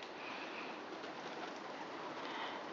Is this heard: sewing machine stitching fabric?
no